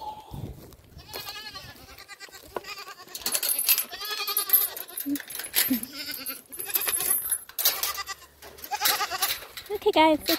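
Young goats on a farm heading into the back pasture, bleating repeatedly in short close bursts with shuffling and small clinks between the calls.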